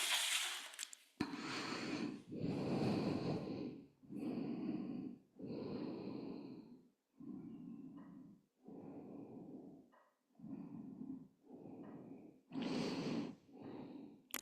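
Slow, audible breaths in and out during a yoga child's pose in a hatha flow session, about a dozen soft, airy inhales and exhales in an even rhythm, close and quiet with no talk.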